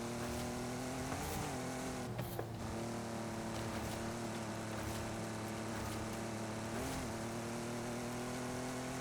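A car engine in Forza Horizon 5 drones with a steady tonal hum that rises and dips slightly in pitch through gear changes, continuous and fairly quiet, with no talk.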